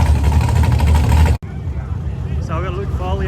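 Holden race car engine running loud and steady on Luke Foley's drag run at the 2023 Holden Nationals, a dense droning roar that cuts off sharply, then a quieter engine hum continues while a voice talks over it.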